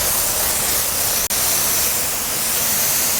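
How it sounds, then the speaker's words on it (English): A spray gun lays down a wet coat of water-based Rust Mort rust converter with a steady, loud, broad hiss that runs continuously. One brief break comes partway through. "Just enough spray. Don't spray it all in the air."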